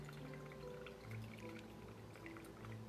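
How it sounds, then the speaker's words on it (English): A cranberry margarita poured into an unsalted glass, a low steady liquid trickle running throughout at close range, with faint background hum and no talk. "Larry's coming in for the pour"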